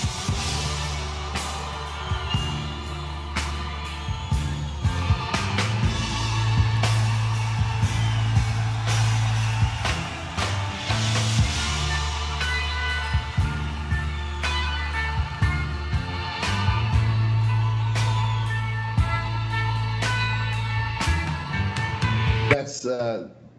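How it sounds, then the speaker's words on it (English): A band plays a concert-opening vamp in 11/8, a repeating rock ensemble groove that runs loud and steady for over twenty seconds before cutting off abruptly. "they changed the vamp to an 11/8 vamp."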